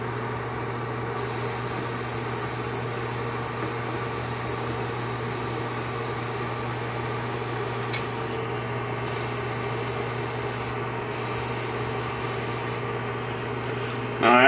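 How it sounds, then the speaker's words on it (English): Spray gun applying clear coat to parts inside a paint booth, a steady continuous hiss with a constant low hum from equipment, pausing briefly several times, ending with a short burst. "Now that's how I clear coat my parts."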